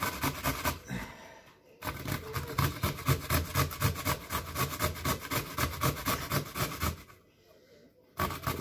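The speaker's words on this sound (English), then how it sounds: "you want to grate pretty much the entirety of the potato, minding your hand" A potato scraped over a grater in rapid, rhythmic rasping strokes, close and steady, with two brief pauses between runs of grating.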